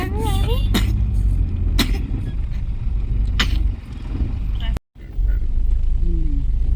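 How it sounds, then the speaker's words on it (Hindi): A road vehicle passes on a roadside near a forest shrine, its broad engine and road rumble running steadily throughout, with a brief dropout near the end and voices talking over it. "गाड़ी जा रही है।"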